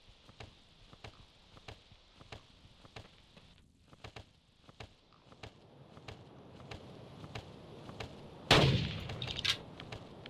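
A gunshot in the hunting game Carnivores, one sharp loud crack standing out late in the clip after a run of regular soft footstep-like thuds.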